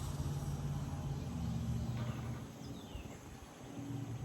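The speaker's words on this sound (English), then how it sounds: "sorry, car going by" A car passes by outdoors, its engine rumble swelling and then fading, with faint birdsong in the background.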